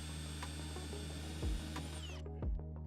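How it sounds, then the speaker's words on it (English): A power drill whirs steadily through a Ford F-150 truck's metal cab floor, cutting a 1 1/8 inch hole, with a couple of brief clunks as the bit bites, then the motor winds down and stops. "Mark the spot with a center punch and drill 1 1/8 inch hole"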